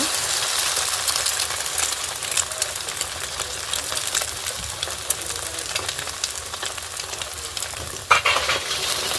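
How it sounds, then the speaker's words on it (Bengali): Egg frying in a pan while being broken up and stirred with a spatula: steady sizzle under repeated metallic scrapes, with a sharper clatter near the end. "এখন ডিমটাকে ভেঙে সুন্দর করে নাড়াচাড়া করে নেব।"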